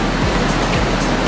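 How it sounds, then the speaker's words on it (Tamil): Overflow water from the third of the Joffre Lakes in British Columbia tumbles down toward the lower lakes, a steady, dense rushing roar that stays loud and unbroken throughout, with no voices. "இது தேர்ட் லேக்கில் இருந்து நிரம்பி வர தண்ணி இதால் போய் செகண்ட் லேக் போய் ஃபர்ஸ்ட் லேக் போய்"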